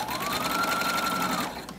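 A sewing machine stitches a Cricut Maker dust cover in one short, steady, whirring run, backstitching, close and even, ending with a small click.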